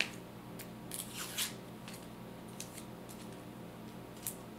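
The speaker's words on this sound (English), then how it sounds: "So I'm taking off the skin of the onion" Dry onion skin is peeled by hand, making a few faint, close crinkling and tearing rustles in a quiet kitchen.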